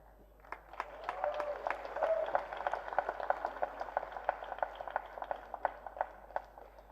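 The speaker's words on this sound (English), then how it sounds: "That's an applause that's coming to him decades later" Audience applause rising from quiet into a steady patter of clapping with distinct individual claps, moderately loud and continuous, tapering slightly toward the end.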